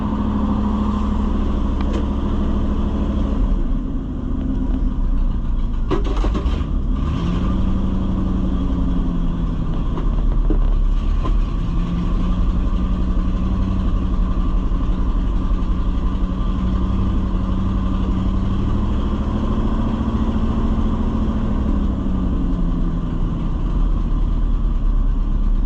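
A 1969 Ford F600 truck engine running, a steady close rumbling idle with slight rises and dips in revs and a few brief clanks, continuous throughout with no talk.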